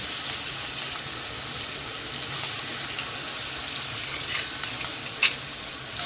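Ginger, garlic and green chili paste sautés in a pan with cumin, giving a steady close frying sizzle and crackle with a few brief sharper spits toward the end.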